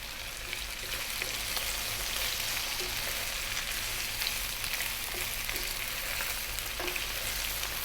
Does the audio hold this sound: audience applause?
no